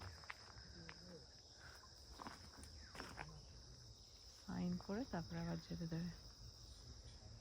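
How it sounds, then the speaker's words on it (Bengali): Crickets chirp in a continuous high, even drone in the Chapramari forest at dusk, with a person talking briefly partway through over the steady insect chorus. "একদম ঝিঝি পোকার ডাক ছাড়া কিচ্ছু শোনা যাচ্ছে না।"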